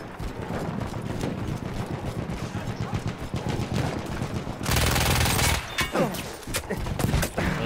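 A sentry machine gun rattles in Battlefield 1, firing fast, dense bursts inside a noisy battle. A sharp sustained volley stands out near the end.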